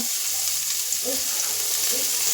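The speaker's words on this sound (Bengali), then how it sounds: "তেলে দিয়ে দিলাম পেঁয়াজ, দুটো লঙ্কা।" Onion and two green chillies frying in hot oil after aubergines, for begun bharta, a steady close sizzle throughout with a few faint soft clinks.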